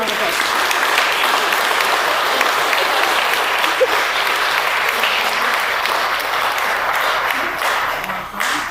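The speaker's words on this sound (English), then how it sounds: "Everybody round of applause." A crowd at a Putnam County emergency medical services 50th anniversary ceremony gives a round of applause for a paramedic and an EMT, sustained, dense clapping filling the room for the whole stretch before tapering slightly at the end.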